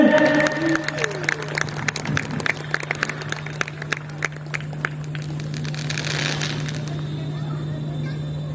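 Audience applause at a Sanatan religious gathering in Haridwar, scattered and sparse claps from a crowd over a steady low hum, fading toward the end.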